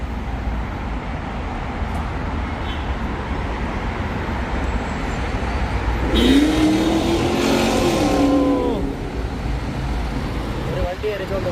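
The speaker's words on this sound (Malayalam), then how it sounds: "ഒരു വണ്ടി അരച്ചോണ്ട് പോയതാണ്." A BMW roars past on a busy Dubai street, its loud engine rising and then fading over a constant hum of traffic.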